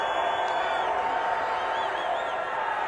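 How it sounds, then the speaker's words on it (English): A college football stadium crowd at a Cincinnati at Tulsa game keeps up a continuous, broad roar of cheering and whooping with no clear breaks. "This crowd is jumping here in Tulsa."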